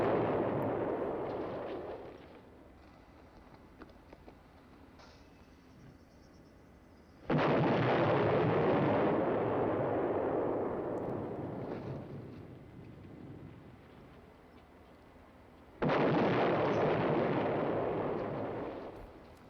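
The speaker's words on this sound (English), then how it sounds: "Grenade explosions happening off screen." Grenade explosions in a 1963 film erupt as two heavy, booming blasts several seconds apart, each decaying into a long rumbling tail over a low background roar.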